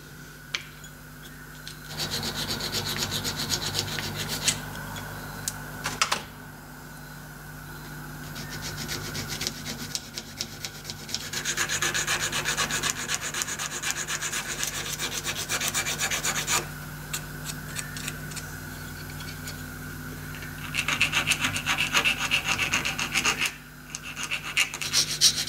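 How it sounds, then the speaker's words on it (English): Metal part for a homemade steampunk fake pressure gauge being deburred by hand, a steady scraping and rasping that runs in several long bursts with short pauses, close and fairly loud, no talking. "And we'll do a bit of deburring."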